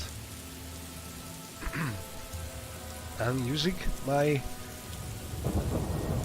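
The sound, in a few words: rain and thunder in video game Morrowind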